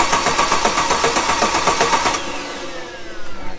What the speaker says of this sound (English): I cranked it over.